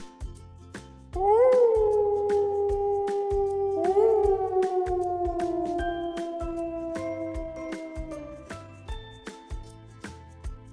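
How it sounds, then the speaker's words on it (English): A cartoon wolf gives two long howls that rise and then slowly fall, the second starting a few seconds after the first, over a steady rhythmic backing tune. "Wolf."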